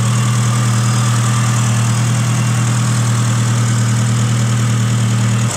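A 2007 Honda Fit (GD3) with a newly upgraded throttle body idles steadily and smoothly, a loud, even engine hum with no talk over it.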